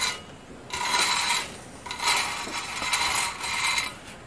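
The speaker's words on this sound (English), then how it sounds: "I got a little kitchen scraper here. I just kind of use that to just make sure everything is broke loose." A small kitchen scraper rasps against dehydrated ham stuck to a tray, breaking it loose in three or four short, harsh scraping strokes separated by brief pauses, close and fairly loud.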